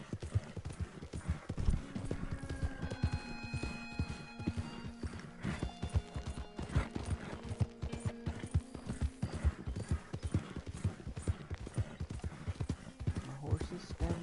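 Horse hooves clip-clop rapidly and evenly in a video game, a continuous trot with whinnies and sustained musical tones running beneath the footfalls.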